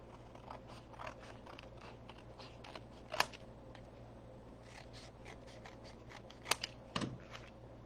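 Scissors cut through a piece of cardstock in a series of soft, close snips with a few sharper clicks of the blades, fairly quiet and with no talking.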